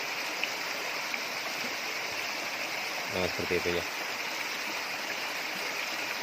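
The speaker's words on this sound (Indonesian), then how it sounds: "di sini ada sumber mata air juga di sungai kecil, bisa kita lihat di depan" A small spring-fed stream on a mountain trail up Gunung Gede flows in a steady, close rushing wash, with a few brief words spoken over it.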